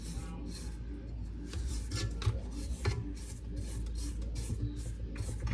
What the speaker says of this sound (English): And give it a good scrape down along the sides here.